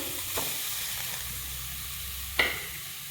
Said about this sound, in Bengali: কড়াই বসিয়ে দিয়েছি দিয়ে দিব গাজর